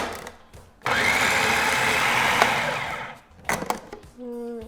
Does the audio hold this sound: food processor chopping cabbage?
yes